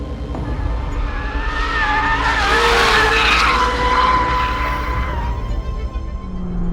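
A high-revving supercar engine on the Estoril race track screams loud and close, with tires squealing as it sweeps through a corner, then the roar fades away.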